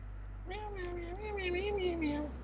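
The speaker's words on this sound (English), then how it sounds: "The fourth cat I approach is a noisy one." A cat meows several times in the video game Purrfect Date, a drawn-out, wavering cry standing alone over a low steady hum.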